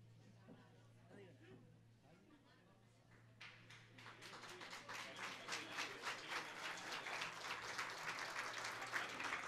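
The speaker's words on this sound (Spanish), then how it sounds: "Así se renuevan esos aplausos," Applause at a hospital inauguration ribbon cutting in Nueva Galia starts faint behind a humming, murmuring room, then swells into a fuller, crisp clapping from a crowd that grows louder toward the end, with voices heard early on.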